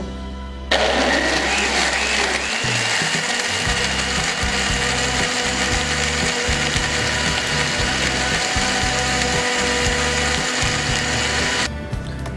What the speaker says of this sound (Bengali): এবার আমরা সবগুলোকে একসাথে ব্লেন্ডারে ব্লেন্ড করে নিব।